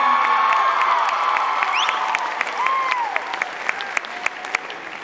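Lively applause from a school talent show audience, with cheering and children's whoops and shouts riding over the clapping at first, then settling into scattered sharper claps as the noise eases.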